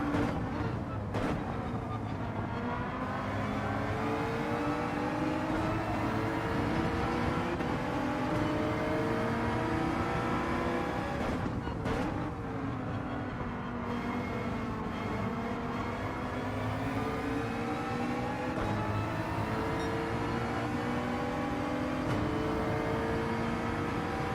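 A Citroen Group 4 race car in Gran Turismo 7 drones on continuously, its engine pitch sliding up and down through gear changes at a steady, moderate level with no pauses.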